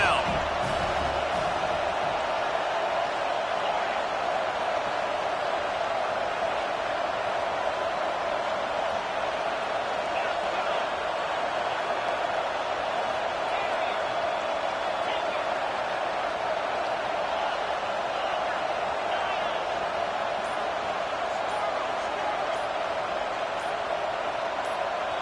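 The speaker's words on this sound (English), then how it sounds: "Decibels rising as the crowd gets behind this defense on 3rd down" A stadium crowd roars on third down in the NCAA 25 college football video game, a dense, loud, continuous wall of noise that holds steady throughout.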